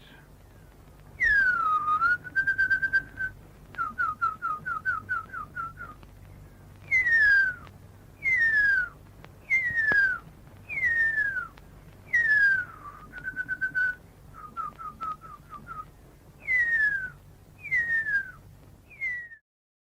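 A person whistles an imitation of the call of the extinct Huia bird: a series of clear, rising and falling whistled notes, with some short repeated stuttering runs, separated by pauses and heard close and alone.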